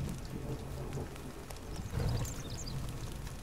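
Rain falls steadily in the survival video game The Forest, a soft continuous patter with scattered drops and a slight swell partway through, and no one speaking.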